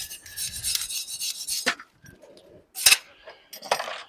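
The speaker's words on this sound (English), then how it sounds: "give it a little scrub" Rasping scrubs on a rusty part from an unused kamado grill come in short, close bursts with brief quiet gaps between them, and a harsher scrape near the end.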